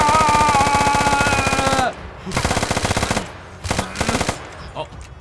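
Rapid automatic gunfire from a Rambo-style character in a video game, a loud sustained burst for about two seconds followed by two shorter bursts, no talking over it.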